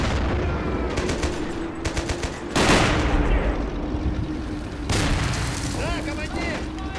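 Grenade blasts and rapid gunfire erupt in a war video game, loud booming bursts at about 2.6 and 5 seconds amid continuous crackling fire, with voices talking over the battle.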